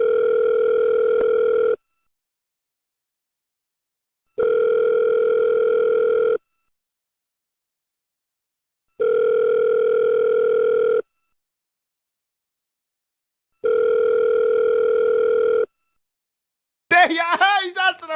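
Phone ringing in FIFA 23 career mode: four long electronic ring tones, each about two seconds with equal silent gaps between, clean and fairly loud, followed by a brief burst of other sound at the end.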